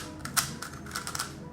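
A GAN Megaminx speed cube puzzle being turned by hand, producing a cluster of light, sharp plastic clicks and clacks, close up and soft, with no talking.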